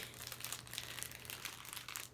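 Soft crinkling of what may be plastic wrap or packaging, a steady close rustle running for about two seconds at low volume with no speech.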